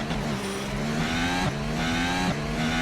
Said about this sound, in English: As I can see the Ferraris in the distance.